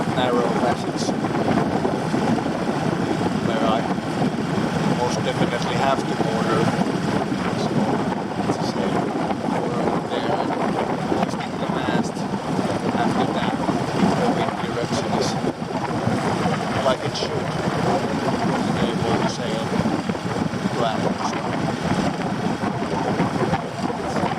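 A sailboat motoring into a headwind on Lake Keitele in Finland, its engine drone steady and continuous for the whole stretch, mixed with wind buffeting the microphone and water rushing past the hull.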